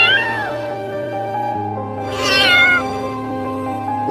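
A cat in a tough spot meows repeatedly and loudly at close range, long drawn-out plaintive cries with one sharper, higher wail near the end, with no voices.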